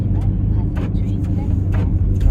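Road noise inside a car on the drive from Wonju to Seoul, a constant loud low rumble of tyres and engine with faint passing swells, while someone talks over it.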